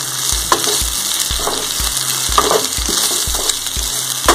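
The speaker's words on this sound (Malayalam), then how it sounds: "നമ്മൾ ചെമ്മീൻ ഇവിടെ നന്നായിട്ട് വറുത്ത് വന്നിട്ടുണ്ട്." Prawns fry in coconut in a hot pan with a loud, close sizzle. Regular low thumps and clatters repeat about every half second, like a utensil working through the pan, and no one talks.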